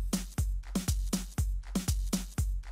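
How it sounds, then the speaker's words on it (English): A Busy Beats drum loop from Purple Mash with maracas added, repeating punchy kick hits in a steady groove with bright shaker rattles filling the gaps, loud and close with no voices. "What about some maracas?"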